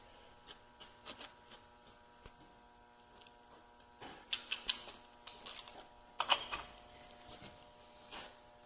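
A nylock nut is tightened by hand tool on the ball joint of a Dana 60 axle, giving bursts of close ratcheting clicks and metallic clatter that build in the middle, with no voices.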